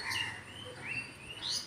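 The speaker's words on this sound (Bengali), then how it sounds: "অনেক পাখির আওয়াজ" Several birds chirp and call outdoors in damp vegetation after rain, with short bright tweets and a few longer whistled notes scattered at moderate distance over a quiet background.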